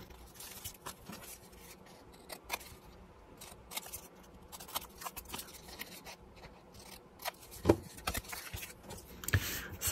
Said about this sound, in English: I'm just going to trim it up here